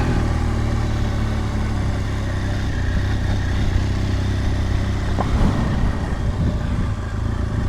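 A BMW R1200 GS TE motorcycle ridden on a winter day, its engine a steady, loud mid-pitched drone with rumbling low end and wind noise throughout, no talking.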